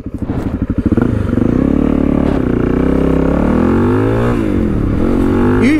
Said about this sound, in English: I've just got the bike in neutral. I'll do a standing start from first up to third, fourth